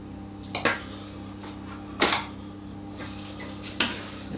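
A spoon stirs apples into a heavy crumble cake mixture in a bowl, giving three sharp clinks and scrapes against the bowl spaced a second or so apart over a quiet background.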